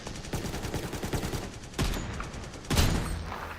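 Rapid video-game gunfire in dense, loud bursts, with sharp shots crowding together and a couple of heavier blasts standing out near the end, with no talk over it.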